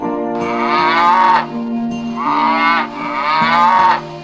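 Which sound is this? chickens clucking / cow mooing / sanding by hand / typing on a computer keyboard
cow mooing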